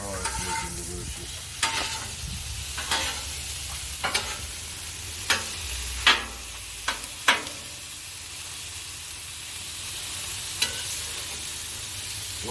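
Taco meat sizzling on a Blackstone griddle, a loud continuous close sizzle punctuated by irregular sharp scrapes and taps of a spatula on the flat-top.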